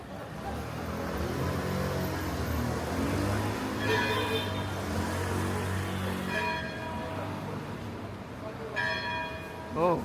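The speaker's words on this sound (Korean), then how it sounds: "종이 울립니다. 종이 울리네요." A church bell rings out in the evening near the Ipsala border crossing, repeated bright clangs at a distance over a constant drone of passing cars and traffic.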